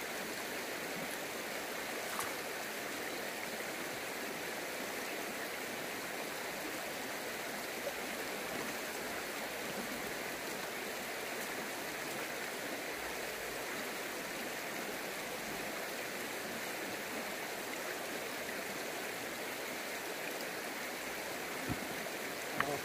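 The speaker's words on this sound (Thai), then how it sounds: "ฝนก็ตกนะครับ" Steady rain and a rushing mountain stream in the Gangwon countryside of Korea, a continuous broadband wash of water at even loudness throughout, with no voices.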